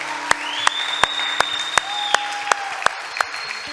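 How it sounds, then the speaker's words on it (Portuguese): Church congregation clapping together in a steady, evenly spaced rhythm of loud claps, with sustained keyboard or organ tones underneath. "Aplauda Jesus, aplauda o Senhor Jesus."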